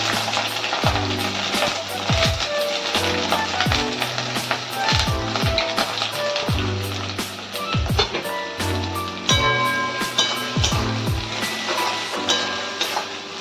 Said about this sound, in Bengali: চলো এবার পেঁয়াজ কুচিগুলো দিয়ে দিই তেলের মধ্যে